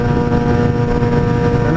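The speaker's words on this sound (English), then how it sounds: "That bike's got like a full Two Brothers racing exhaust on it" A motorcycle with a full Two Brothers racing exhaust runs close and loud, giving a dense, steady engine drone for a couple of seconds.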